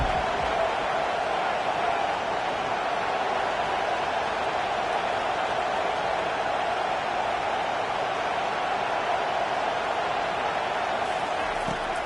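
A packed stadium crowd in a college football video game roars as a steady, dense wash of cheering that holds without a break for a big third down.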